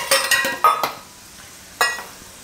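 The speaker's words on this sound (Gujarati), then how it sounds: "તો આને આપણે વાટકામાં કાઢી લઈશું." Metal spoon scraping fried onions out of a pan into a bowl, several sharp clinks and scrapes in quick succession, then a pause and one more clink, close and fairly loud, with no talk.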